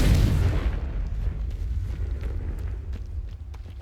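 A Confringo blasting curse in Hogwarts Legacy goes off as one heavy, close boom that decays into a rumbling tail, with faint crackles trailing off.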